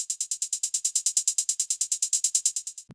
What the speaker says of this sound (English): this is what it sounds like in Crush